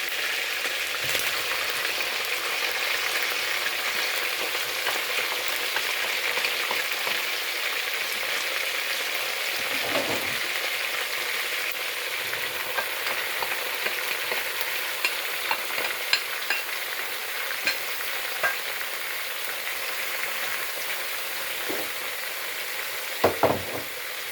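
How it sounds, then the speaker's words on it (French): Onions frying in a pan as part of a chicken and rice dish, giving a steady, close sizzle with occasional stirring scrapes and no talk. "Maintenant, nous allons rajouter nos oignons."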